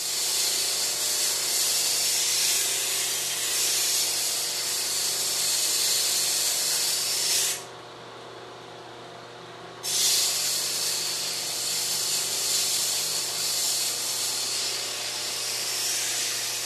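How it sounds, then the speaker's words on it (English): A steady, loud abrasive hiss of a slack belt grinder grinding a convex edge on a knife blade, continuous except for a short quieter gap partway through before grinding resumes. "Here I'm grinding in a slight convex edge with the slack belt on the grinder."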